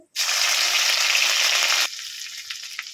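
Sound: ginger and green chili paste frying in a pan

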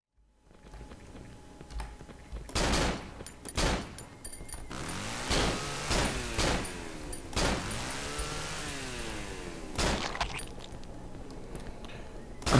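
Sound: gunshots and reloading, video game Cry of Fear

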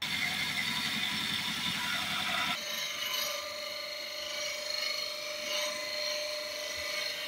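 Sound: woodturning tool cutting a wooden bowl on a lathe

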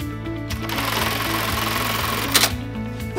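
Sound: sewing a purple slide onto a bag strap

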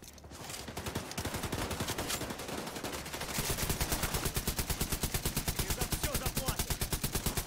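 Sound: machine gun fire from video game The Division 2

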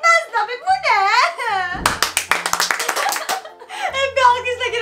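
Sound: applause, clapping

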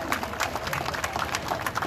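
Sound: applause for a school at a parade

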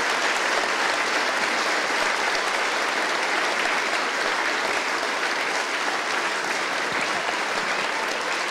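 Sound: audience applause for children's school play

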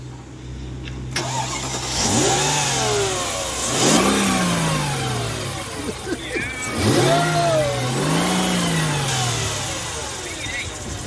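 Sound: car engine starting and revving

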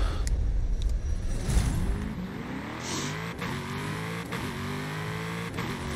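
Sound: car engine revving in the video game Forza Horizon 5

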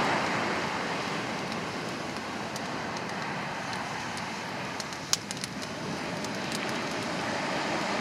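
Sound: ocean waves on a winter beach

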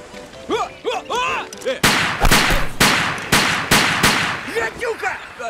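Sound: gunshots fired in a film scene

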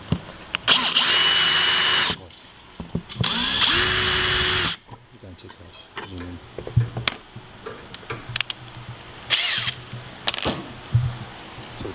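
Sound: drilling pilot holes in aluminium

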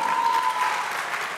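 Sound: audience applause

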